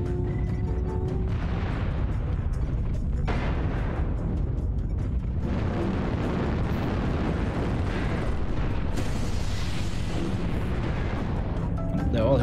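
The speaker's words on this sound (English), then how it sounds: "Artillery strike online." Heavy artillery strike explosions in MechWarrior Online, a continuous barrage of loud, deep booms and rumbling blasts rolling on for the whole stretch, with a voice faintly under the din.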